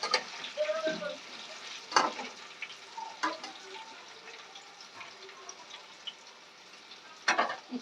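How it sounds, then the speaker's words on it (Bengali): Potatoes sizzle quietly in a pan of hot oil, broken by a few sharp spatula scrapes and clanks as they are stirred; close but fairly soft, with faint voices in the background. "কিছুটা আলু এখানে আছে আর কিছুটা ভাজতে দিয়েছি"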